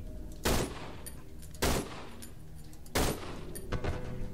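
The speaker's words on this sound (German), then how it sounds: "3 Schüsse mit der USP" Three sharp USP pistol shots from the video game Cry of Fear crack out at uneven intervals, each loud and abrupt with a short ringing tail, over low background noise.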